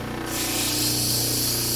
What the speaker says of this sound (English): I turn my water on over here. As you can see, the water spraying down here.